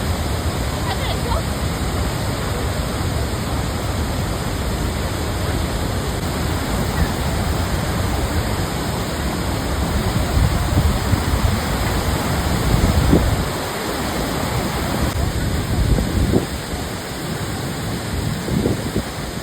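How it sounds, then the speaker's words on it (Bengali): The Usri river crashes over Usri Falls near Dhanbad in a powerful, continuous roar, heard up close, with slight surges and a brief dip in loudness partway through. "তার জলের গর্জনে আমরা প্রায় কিছুই শুনতে পাচ্ছি না।"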